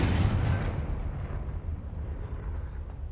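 A fiery Confringo blasting spell bursts in Hogwarts Legacy, a loud low boom that rumbles and fades over about three seconds with no voices.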